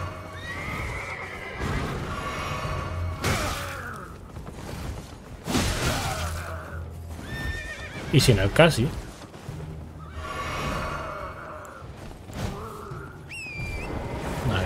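A horse neighs and whinnies in the video game Elden Ring, with clip-clop hoofbeats, amid game sounds and someone talking in Spanish throughout.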